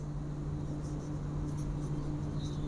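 A pen writes out a math solution with faint, light scratching strokes over a constant low hum. No one speaks.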